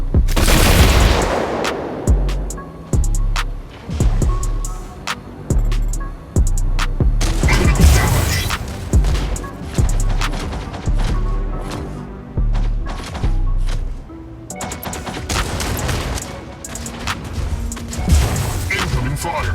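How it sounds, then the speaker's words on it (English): Incoming gunfire in the robot combat game Mech Arena comes as loud, repeated bursts of blasts and impacts. Heavy booms and rapid shots arrive in rhythmic volleys that go on almost without a break. "Incoming fire."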